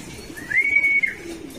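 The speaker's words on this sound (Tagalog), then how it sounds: "Ayan, tumukod ibon namin" A pigeon arriving and settling at its home loft gives a single drawn-out, whistling call that rises, holds steady and fades, heard close over a soft, low background murmur.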